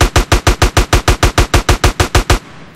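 Rapid automatic gunfire in GTA San Andreas, a loud, close burst of about fifteen evenly spaced shots in steady rhythm, stopping abruptly and leaving a faint tail.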